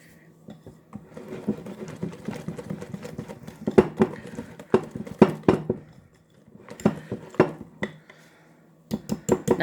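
Cake batter stirred by hand in a bowl, giving bursts of scraping, clinking strokes in an uneven rhythm, close and fairly quiet, with short pauses between runs of mixing.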